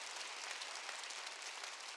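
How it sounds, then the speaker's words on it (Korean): Church congregation applauding during a Korean Wednesday worship service, a dense, steady burst of clapping from many hands that fills the room at moderate volume with no voices over it. "박수."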